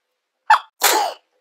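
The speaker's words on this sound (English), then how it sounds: "I just got to sneeze" A single sharp sneeze, a quick intake followed by a loud burst, close up and isolated in silence.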